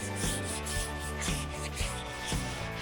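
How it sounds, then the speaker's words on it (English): Steady rhythmic rubbing of a 100-grit sanding block on wood, repeated back-and-forth strokes at close range with no talking. "100 grit sanding blocks, and we had to get all the wood smoothed up"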